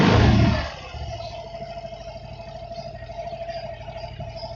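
A car engine under ECU tuning blips loudly at the start, then settles into a steady, low idle with a faint mechanical clatter, close by and alone.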